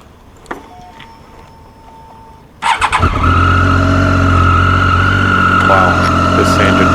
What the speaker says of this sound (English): Wow, this engine just sounds sweet.